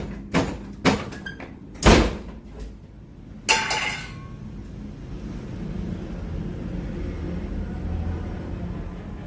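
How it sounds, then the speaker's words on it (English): An interior door in a building rumored for unexplained deaths rattles in a few sharp bursts and then bangs loudly shut, followed by a low, steady room rumble with no talking. "The door begins to shake violently before slamming shut."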